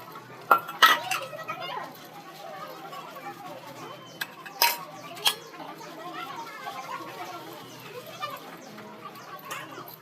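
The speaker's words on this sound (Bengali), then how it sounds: "ঠাকুরের বাসন ধুতে বসেছি" Brass puja utensils being washed by hand, metal pots clinking and clanking in a few sharp knocks, with water and faint handling noises between them, close by, with soft chatter in the background.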